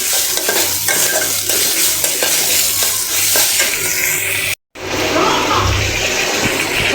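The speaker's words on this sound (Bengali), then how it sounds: "এটা হচ্ছে মাছের মাথা ভেজে নিচ্ছি আর পেঁয়াজ দিয়ে দিয়েছিলাম" Fish heads frying in a pan with onion, ginger and garlic give a loud, steady sizzle with stirring scrapes throughout, broken by a brief gap before the frying resumes.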